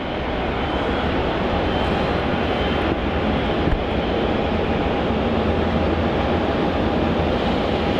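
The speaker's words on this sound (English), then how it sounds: "we do have the Jetstar A321-200 Neo arriving in from Adelaide" Jetstar Airbus A321neo arriving from Adelaide at Melbourne Airport, a loud, steady engine roar that holds at an even level throughout with no voices.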